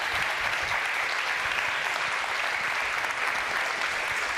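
An audience at a launch event applauds panelists, a dense, steady clapping that fills the room at even loudness throughout.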